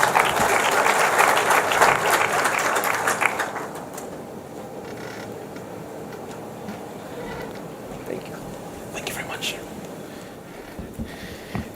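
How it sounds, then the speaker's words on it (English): Audience applause at the launch of a national financial inclusion strategy, steady clapping for several seconds that fades into room murmur and faint talk. "I noticed lots of applause"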